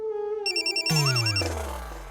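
A telephone ringtone plays alone in a short electronic burst: a held tone, then rapid bright beeping notes and a warbling melodic figure that fades out.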